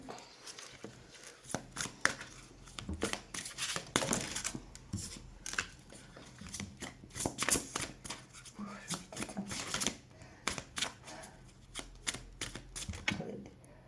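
Tarot cards are handled and shuffled while someone searches for a card, heard as quiet, close, irregular flicks, slaps and rustles in quick bursts, with a soft voice speaking intermittently.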